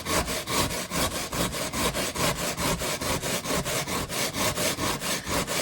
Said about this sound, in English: I'm just going to use this sanding block, now that this is all glued in, to just sand this down